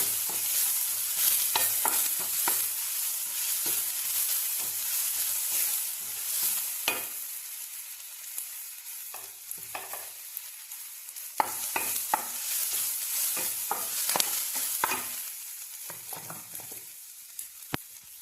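Chaya mansa leaves are stirred in a hot pan, with soft continuous sizzling broken by repeated scraping strokes of a spoon against the pan, close and fairly quiet throughout.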